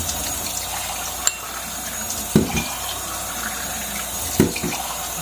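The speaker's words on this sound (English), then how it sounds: "I'm going to fill them all half full of water" Water runs steadily into canning jars, filling each about half full, a continuous close rushing with a few soft clunks of glass as jars are handled.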